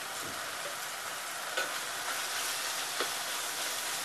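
Spices with turmeric, garam masala and chili powder fry in a pan in a village kitchen, a steady moderate sizzle with a couple of soft stirring scrapes, no talking.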